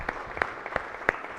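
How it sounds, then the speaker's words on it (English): A few people in a Senate chamber clap for a guest, sparse, separate hand claps spaced out at a moderate distance rather than full applause. "Please give her a round of applause."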